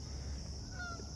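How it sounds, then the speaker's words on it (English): Geese honk faintly and far off as they fly overhead outdoors, a few thin calls rising over a steady low background rumble. "There we go, geese flying up above"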